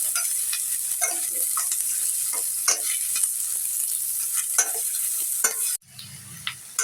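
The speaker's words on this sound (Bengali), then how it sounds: "তেলটা গরম হয়ে গেছে, এখন পেঁয়াজ কুচিটা ঢেলে দেব।" Chopped onions fry in hot oil, a loud, continuous sizzle with scattered stirring scrapes that cuts out abruptly near the end.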